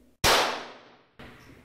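Two sharp gunshots during a firearm shooting test required by the Federal Police in Brazil: a loud, close blast with a long decaying echo, then a second, weaker report about a second later.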